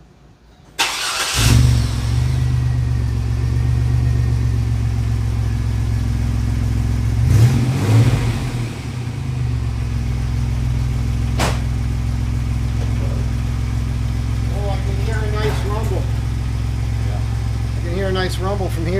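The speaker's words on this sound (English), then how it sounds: "let me turn the van on and see what it sounds like." A van with a Borla muffler cranks and starts abruptly, then settles into a steady deep exhaust rumble with a brief rev midway. It is loud and close, and voices speak intermittently over the idle.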